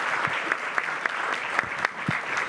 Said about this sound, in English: join me in thanking the wonderful presentators for today, and with a round of applause